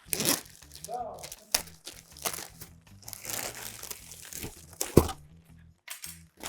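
A plastic bag crinkles and rustles in bursts, with a sharp crackle near the end, between stretches of talking.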